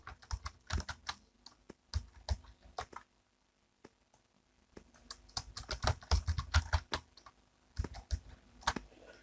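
Fingers type on a computer keyboard up close in quick, quiet bursts of clicking keys, with a short lull partway through before the clatter resumes.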